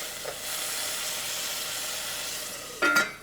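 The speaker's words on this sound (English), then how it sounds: "I'm actually going to use it to deglaze my pan here" Broth hits a hot pan to deglaze it while making a simple tomato sauce, giving a steady, close sizzling hiss that swells into a louder sputtering burst near the end.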